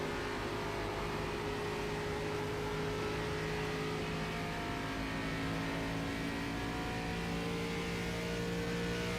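A racing car engine in iRacing holds a steady, droning tone that builds gradually under throttle, with sustained harmonics at a moderate, even level and no talk.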